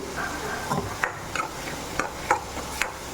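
Ivy gourd with salt being sautéed in a pan, a steady soft sizzle with scattered scrapes and taps of a stirring spoon against the pan, close and moderately quiet with no talking.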